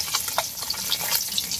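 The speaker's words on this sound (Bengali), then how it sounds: "মাছ ভাজি হয়ে গেছে" Fish frying in a pan in a home kitchen, giving a steady, fairly close sizzle with crackling pops scattered through it and no talk.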